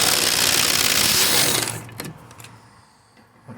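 A pneumatic air tool hammers loudly and continuously at rusted rear suspension bolts on a Vauxhall Vectra GSI during a polyurethane bush upgrade, then cuts off, leaving a few clanks and quieter workshop noise.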